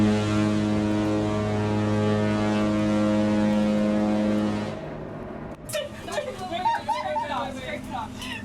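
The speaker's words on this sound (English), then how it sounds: "It's a foghorn." A ship's foghorn sounds one long, deep, steady blast for nearly five seconds, then stops abruptly as people chatter nearby over background noise.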